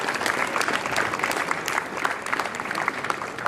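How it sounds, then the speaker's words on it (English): Steady applause from the audience at a 2022 athletic hall of fame induction ceremony, a brief, even wash of clapping, moderately loud and with no speech. "Let's give those people a round of applause."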